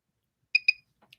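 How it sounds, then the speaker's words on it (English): Two quick, clear electronic beeps in close succession from a Mini by Clareblend microcurrent facial device, near and alone, followed by faint handling sounds. "And I wait for the double beep."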